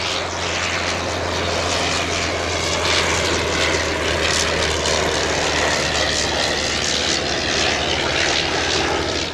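Bristol F2B biplane flying at an airshow at Old Warden: a steady, loud propeller-engine drone that holds its level throughout, close overhead, with no talking.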